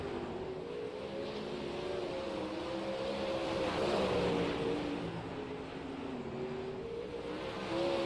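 Race car spinning out on a track during a sim racing league night, its engine droning steadily with shifting pitch, rising slightly as the car loops around, heard alone at moderate distance.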